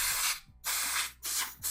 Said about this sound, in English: Just getting the dust out of the fans here.